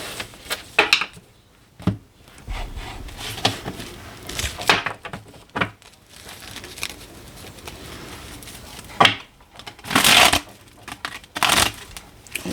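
A deck of cards being shuffled close by, bursts of crisp riffling and flicking separated by short pauses, with small handling noises between them.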